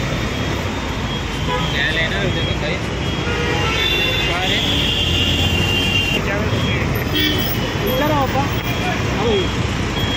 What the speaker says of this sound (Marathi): हे बघा ही गाडी आली आमची